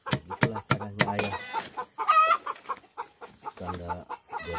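Hen clucking loudly after laying an egg at a Dayak Tomun farm, a run of sharp repeated cackles up close, a brief high squawk in the middle, then more clucking toward the end.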